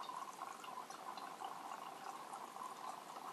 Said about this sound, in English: you can hear the wine gurgling as it goes through the wine pour